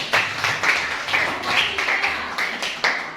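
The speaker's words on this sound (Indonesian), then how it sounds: "Tepuk tangan kelompok 2" Schoolchildren in a classroom clap for a presenting group, a patter of claps rising and falling in several short bursts, fairly near, with no talking over it.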